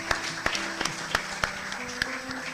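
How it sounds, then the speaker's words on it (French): Scattered applause for a pastor closing a church conference, fairly quiet and loose, with a few sharper individual claps standing out over a soft background murmur. "Est-ce qu'on peut applaudir mon pasteur?"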